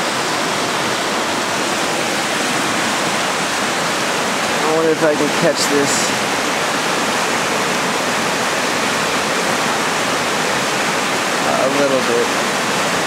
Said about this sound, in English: there's a significant amount of water coming through here.